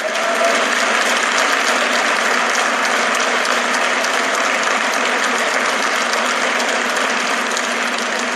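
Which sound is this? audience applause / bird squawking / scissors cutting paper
audience applause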